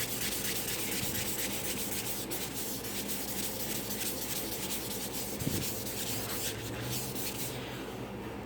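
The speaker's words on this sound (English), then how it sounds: "You take this Mr. Clean magic eraser. I'm just gonna do a little bit on the edge here so you can see." A Mr. Clean Magic Eraser rubbed back and forth along a wooden pool cue shaft makes a close, steady, soft scrubbing hiss that continues without a break.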